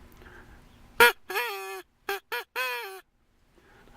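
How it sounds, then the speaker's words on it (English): Crow caller blown by hand, giving a sharp opening squawk and then a few nasal, honking calls in an uneven rhythm. The calls are loud and close, with quiet pauses between them. "This here is a crow caller, in case you want to call in crows and shoot them for dinner."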